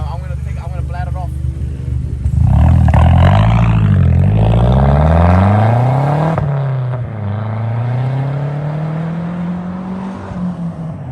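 A Mazdaspeed3 engine revs up and accelerates hard, the pitch climbing and falling through gear changes, loud and close, with brief voices at the start.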